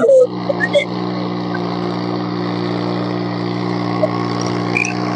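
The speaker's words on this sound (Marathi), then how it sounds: "तिकडे ट्रॅक्टर" A tractor engine drones steadily at a rice paddy field during planting, a loud, even mechanical hum after a brief rustle at the start.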